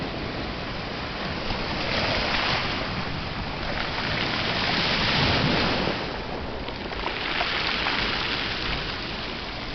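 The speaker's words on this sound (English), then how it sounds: "the sound that the receding water makes as it rolls over the cobbles, these little stones" Ocean surf at rocky tide pools, water washing in and receding over small cobble stones with a steady rushing hiss that swells in broad surges, loud and close, no voices.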